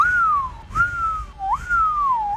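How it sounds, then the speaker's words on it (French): Someone whistles a short, wavering tune close by, with sliding pitch in a few connected phrases and brief pauses between them. "Désolé pour les sifflements."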